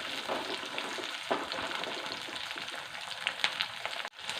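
Onions and green chillies sauté in a pan for a Kerala-style curry, giving a soft, continuous sizzle with faint clinks and stirring.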